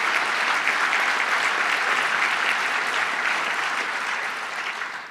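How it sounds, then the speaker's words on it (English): A large audience at a New York event applauds Mayor David Dinkins in a dense, sustained ovation that stays loud for several seconds before starting to fade. "Let's give him a round of applause."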